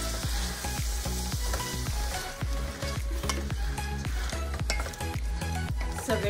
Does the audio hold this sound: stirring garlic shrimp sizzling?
yes